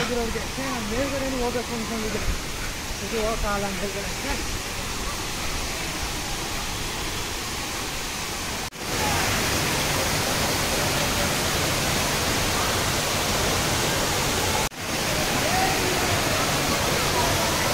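Ermayi Falls, a multi-layered waterfall near Ujire in Belthangady, roars as a steady, full rush of water, with a voice speaking briefly at the start over the constant flow.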